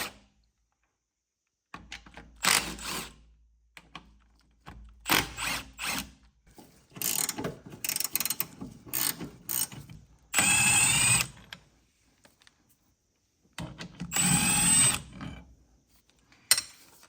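Ratchet wrench loosening the rear mount bolts on a 1991-1996 Acura NSX 5-speed manual transmission: several bursts of close, loud clicking ratchet strokes, separated by pauses, with metallic clanks between.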